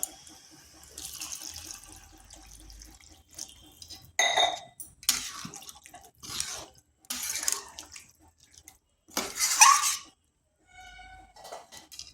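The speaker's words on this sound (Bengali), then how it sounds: "লাউটা ভালোভাবে কষে নিয়েছি। এরপর এখানে দিয়ে দিচ্ছি জল।" Water is poured into a pan of bottle gourd being cooked as a vegetarian curry, landing in several separate splashy bursts with short pauses between, fairly close and clear, with no talking.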